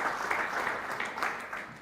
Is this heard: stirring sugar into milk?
no